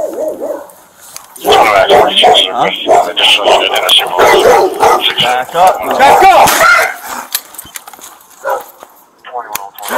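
Dog barking loudly and repeatedly at a police officer during a confrontation, sharp barks overlapping shouted commands from people talking throughout.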